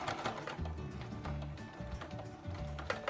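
A sewing machine stitches around a skirt seam, running in steady bursts with a rhythmic mechanical whir and clatter, close and fairly loud, pausing briefly between runs.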